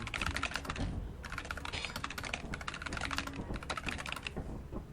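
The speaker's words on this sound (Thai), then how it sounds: "ชอบเสียงคีย์บอร์ดกันเลย" Rapid, continuous clatter of computer keyboard typing, close and steady with brief pauses, heard during a Lethal Company gaming session.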